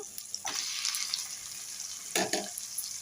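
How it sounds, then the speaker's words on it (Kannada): Tomatoes sautéing in oil in a pan, a steady hissing sizzle with a couple of brief louder bursts as the food is stirred, no talking. "ಟೊಮೆಟೊನ ಸ್ವಲ್ಪ ಎಣ್ಣೆಲಿ ಚೆನ್ನಾಗಿ ಬಾಡಿಸ್ಕೊಳ್ಳೋಣ"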